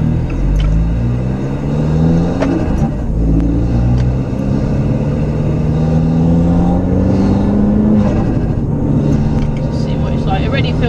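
A remapped Abarth car's engine revs hard and accelerates, its loud rising drone climbing through gears from inside the cabin.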